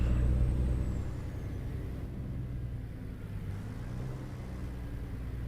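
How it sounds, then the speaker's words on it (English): American truck exhaust brake, heard as a loud, steady low rumble with a throaty mechanical roar that is strongest at the start and then holds level and close, with no voices. "American exhaust brakes are very, very loud compared to their European equivalents."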